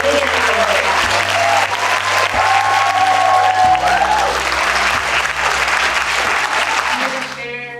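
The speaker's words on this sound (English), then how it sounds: "Please give them a big round of applause." An audience at a Moms Demand Action advocacy day applauds students, loud and sustained clapping from a large crowd that fills the room, with music and faint voices beneath it.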